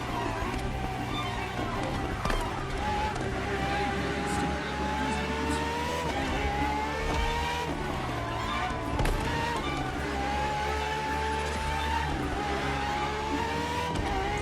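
Engine of a Ferrari FXX K, a track version of the LaFerrari supercar, racing in The Crew Motorfest, a loud continuous roar with rising and falling revs throughout, close and dense, alone with no talk.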